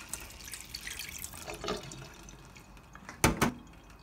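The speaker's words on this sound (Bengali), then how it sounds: "এখন আমি এটাকে এভাবে ছাঁকনিতে ছেঁকে" Water drains from soaked coriander seeds poured through a strainer, a soft uneven trickle and drip, then a brief louder splash near the end, close and fairly quiet.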